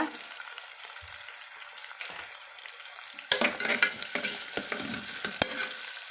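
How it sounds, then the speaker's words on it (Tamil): Chopped tomatoes and curry leaves dropped into hot oil for vegetable biryani, quiet sizzling that jumps louder when the ingredients hit the pan, followed by irregular stirring scrapes and crackles. "வெட்டி வச்சுக்கிற தக்காளியை போட்டுக்கிறேங்க கூடவே கருவேப்பிலை இலையை போட்டுக்கிறேங்க"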